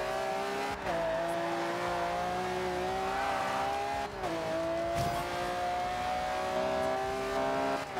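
A car drifts in a racing video game, its engine holding a loud, steady high rev with tire squeal, dipping briefly twice as gears shift, then climbing again.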